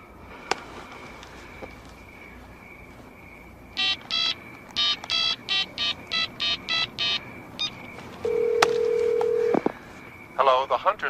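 A telephone is dialed with a quick run of touch-tone beeps, then a long steady ring tone follows, with more short beeps at the end, all fairly close and clear over a quiet room.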